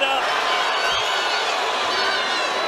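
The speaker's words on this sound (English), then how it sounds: "The crowd is eating it up." A boxing arena crowd roars continuously during a Terence Crawford fight, a dense, loud wall of cheering with a commentator talking over it.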